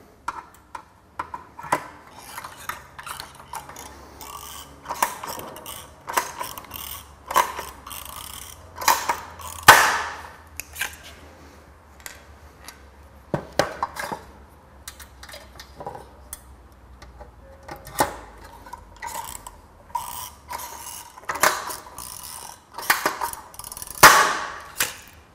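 Sharp metallic snaps of pop rivets being set into a steel trunking end cap, irregular clicks and pops scattered across a quiet room, with some faint handling noise between them.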